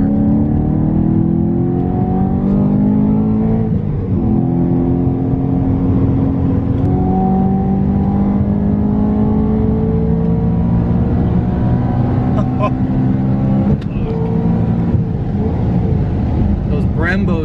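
A powerful supercharged E92 BMW M3 roars and revs through rising gear changes while entering a highway, loud and close, with steady road noise throughout.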